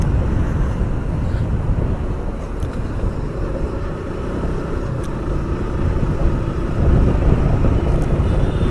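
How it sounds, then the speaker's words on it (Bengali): Strong outdoor wind buffets a microphone beside a Kawasaki Ninja ZX-10R sports bike, producing a heavy, close, continuous low roar and rumble that surges and eases throughout. "ও গড, এত উইন্ড!"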